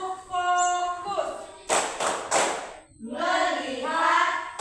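A fifth-grade class in an Indonesian primary school chants together in unison, then breaks into a burst of quick group claps in the middle before the chanting resumes, all loud and close.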